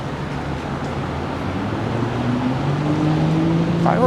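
Steady traffic drone from cars moving along a Toronto city street beside streetcar lanes on Bathurst, a continuous low rumble that swells slightly toward the end, with no voices.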